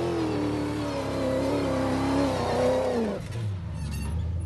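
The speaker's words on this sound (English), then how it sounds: "I bought myself a Dakar style off-road racing car." A Dakar-style off-road rally racing car engine revs steadily at a sustained, slowly rising pitch, then drops off sharply near the end, heard from a moderate distance with no voices.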